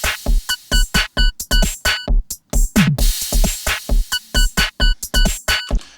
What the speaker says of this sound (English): so I programmed in a basic drum beat,